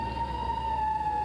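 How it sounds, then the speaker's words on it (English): A siren sounds outside the White House in the morning, a steady sustained tone over low traffic rumble, moderately loud and with no voices. "That siren happens just about this time of morning, almost every morning in front of the White House."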